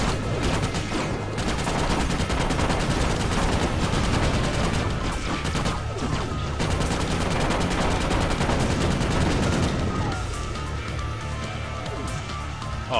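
Sniper and gunfire in the Ratchet: Deadlocked video game, a dense continuous barrage of loud shots layered with game effects.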